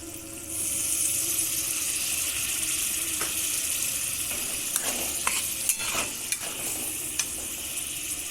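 Chicken pieces sizzle steadily in a pan for spicy chilli chicken, with scattered clinks and scrapes of a spoon stirring through the hiss, close and fairly loud with no talk.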